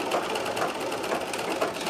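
A Necchi Nora sewing machine running at high speed, giving a fast, even mechanical whir with a light rhythmic ticking, steady and close with no voices.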